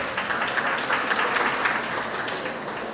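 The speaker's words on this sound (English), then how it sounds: "So give yourselves a round of applause." A room of club members at a monthly meeting in a community centre breaks into a steady round of applause, dense overlapping claps sustained evenly throughout with no voices over it.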